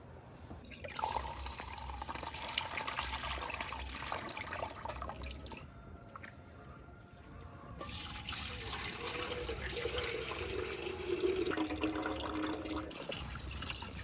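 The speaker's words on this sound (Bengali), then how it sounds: "এবার চালটা ধুয়ে নেব।" Kamini Bhog rice being washed in water for a village winter sweet, with steady splashing and trickling that briefly dips in the middle and then picks up again, fairly quiet and with no talking.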